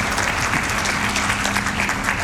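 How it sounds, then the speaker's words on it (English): Steady applause from a crowd, dense and continuous clapping at even loudness throughout. "Pause for applause."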